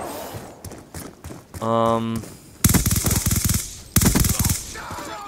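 Chicom CQB gun firing in a video game: short rapid bursts of automatic fire, each a tight rattling volley, with a mechanical reload-like clatter in between and a voice talking lightly underneath.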